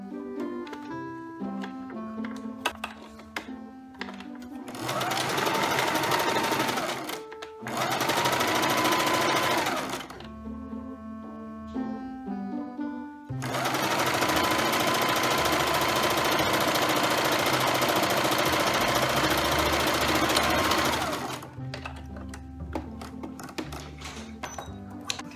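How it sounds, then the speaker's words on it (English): Sewing machine stitching the side seams of a pillowcase dress: two bursts of fast, steady mechanical whirring, one short and one long, separated by quiet handling of fabric and soft clicks, with background music throughout. "I'm just gonna start my seam there and go down the side of my dress on both sides"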